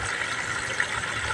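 Water carrying milkfish fry pours from a plastic bag into a drum in a steady, close, rushing gush with no talk, running continuously for a brief moment.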